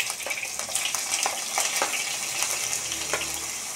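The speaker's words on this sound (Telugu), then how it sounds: "అలాగే ఫ్రై చేసుకుందాం గోల్డెన్ బ్రౌన్ వచ్చే వరకు." Onions, green chilies and garlic frying in a pan for tomato pachadi: a close, steady sizzle with frequent sharp crackles and pops, nothing else over it.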